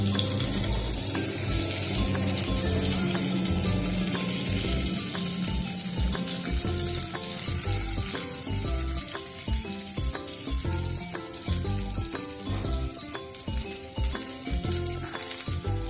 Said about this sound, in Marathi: त्याला छान आपल्या आपण हलवून भाजून घेऊया म्हणजे ते पटकन शिजतात तेलात छान तळल्याच्यानंतर म्हणजे.